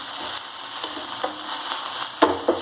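Onions fry and get stirred in a pan for eggplant curry, giving a steady sizzle broken by scraping stir strokes and a few sharp clanks near the end.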